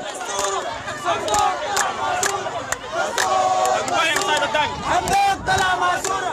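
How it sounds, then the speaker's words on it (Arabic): Women protesters chant slogans against the cost of living during a street march in Khartoum. Rhythmic, crowded shouting voices carry steadily and fairly close, with sharp percussive accents mixed in. "ورددت المتظاهرات هتافات ضد حكومة قحط"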